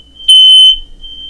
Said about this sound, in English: That's my smoke alarm